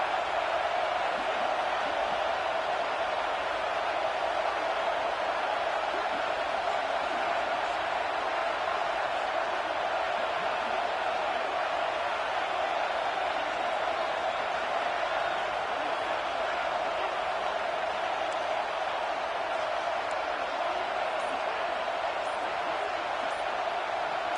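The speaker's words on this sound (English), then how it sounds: "This crowd bringing the energy and noise early." A football stadium crowd at an Iowa versus Auburn game produces a constant, dense roar of voices, loud and unbroken for the whole stretch without distinct cheers or claps standing out.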